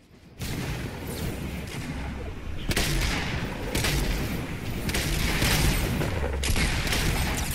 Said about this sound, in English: Who's shooting? Behind us!